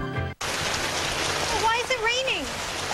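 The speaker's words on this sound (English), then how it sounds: "Why is it raining?" Heavy rain pours steadily as a dense, loud hiss right after a brief cut, with a voice speaking over it.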